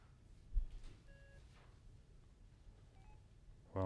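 Telephone keypad tones sound during a lecture, a few short separated beeps from a phone being dialed, faint in a quiet room, followed by a louder bump at the end.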